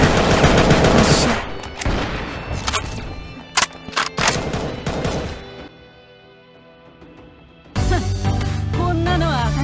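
Rapid video game gunfire in Angel Squad, a mobile shooter: dense, loud bursts of automatic shots, then scattered single shots and a quieter pause before heavy firing and music return.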